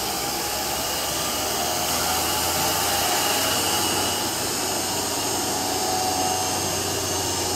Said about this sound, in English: So now I've created a leak, the pump sped up.